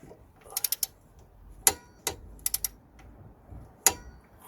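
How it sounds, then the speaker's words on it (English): A torque wrench tightens the top bolt and nut during CV joint boot work on a Nissan Note, giving sharp metallic ratchet clicks: a quick run of four, then scattered single and triple clicks, close by in a quiet space. "So just gonna torque up the top bolt"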